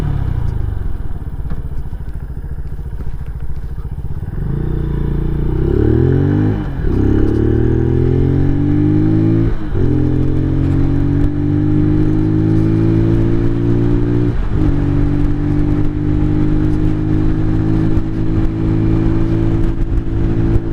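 A 2023 Venom SS3 KP mini 150 motorcycle is ridden at speed with a loud, close engine drone. Its pitch climbs through several distinct gear changes before it settles into a steady high cruise.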